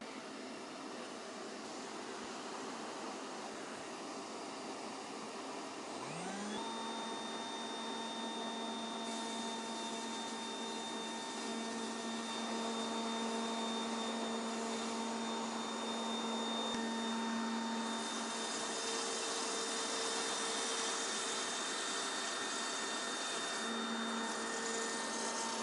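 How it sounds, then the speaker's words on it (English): Handheld router spinning up and running for a long stretch with a steady high-pitched whine while plunging into surfboard foam to cut a finbox slot, heard close and alone. "I'm going to plunge down into the foam, do my cut, shut it off, let the bit come to a standstill before removing it."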